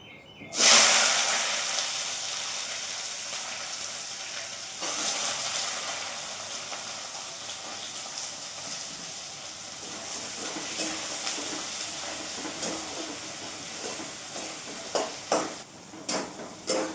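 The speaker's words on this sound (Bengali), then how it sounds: "ততক্ষণ আমার পেঁয়াজটাও ভাজা হয়ে গেল" Onions frying in a pan in a home kitchen, a soft continuous sizzle and hiss with occasional stirring clatter and a few sharper knocks near the end.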